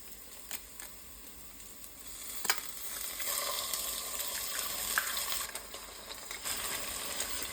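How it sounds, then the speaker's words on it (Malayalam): Three beaten eggs poured into a pan of frying masala with tapioca, a soft continuous sizzle with faint scraping and splashes, fairly quiet and without talk. "ഇതിനകത്തോട്ട് നമുക്കൊരു 3 മുട്ട അങ്ങോട്ട് ഒഴിച്ചു കൊടുക്കാം."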